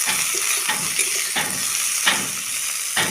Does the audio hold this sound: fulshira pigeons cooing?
no